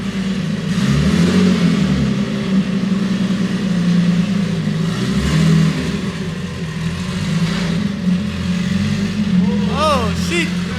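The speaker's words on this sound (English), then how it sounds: "It is pretty loud. I'm not the biggest fan of open exhaust dump" Nissan Z engine with an open exhaust dump and no downpipe, running loud and close as a steady, thick rumble with a slight rise in revs. Short squealing chirps come in near the end.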